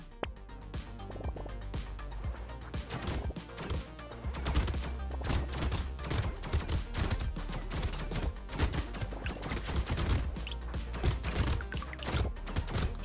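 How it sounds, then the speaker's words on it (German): Uzi fire in the video game Brotato bursts out as a dense, continuous rattle of rapid shots, each trigger pull firing three rounds at once, layered over game music and effects at steady loudness for the whole stretch. "Also eine Uzi, die halt so schon übelst losrattert und dann aber statt einem Schuss 3 Schüsse gleichzeitig durchrattert"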